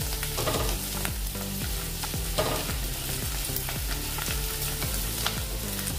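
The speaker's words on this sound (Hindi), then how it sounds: "इसको थोड़ा सा तल देंगे, अदरक और लहसुन को।" Loud, steady sizzling of ginger and garlic frying in hot oil, with scraping stirs throughout.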